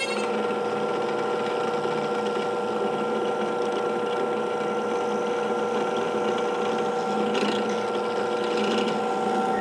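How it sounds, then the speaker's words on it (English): A CNC machine cuts a guitar bridge from flame maple and padauk, giving a steady mechanical whine with sustained tonal hum and faint ratcheting texture throughout, unbroken and without speech. "We'll go ahead and cut that out on the CNC real quick while we wait on the fretboard to glue onto the neck."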